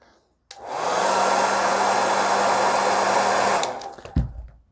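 A Conair hair dryer blows hot air onto an RC car decal, switching on with a sudden whoosh, running as a steady close whir for about three seconds, then cutting off, followed by a soft thump.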